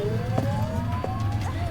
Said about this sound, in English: And now we get the siren.